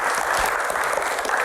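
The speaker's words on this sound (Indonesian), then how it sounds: "tepuk tangan buat Mas Adi" Brief burst of studio audience applause welcoming a guest onto a Q&A talk show, steady and fairly close, with no talk over it.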